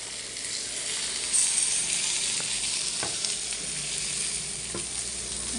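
Spicy masala-coated fish fries in a hot pan: a steady, loud sizzle and crackle of oil runs throughout, with occasional sharper pops and faint clinks, with no voices.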